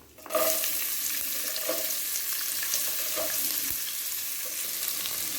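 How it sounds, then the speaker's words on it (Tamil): Onions drop into hot oil with asafoetida for a brinjal, drumstick and mango sambar and burst into a loud, steady sizzle that starts abruptly and keeps crackling close up, with faint stirring. "நல்லா பொரிஞ்சிட்டு வெங்காயத்தை போட்டுக்கணும்"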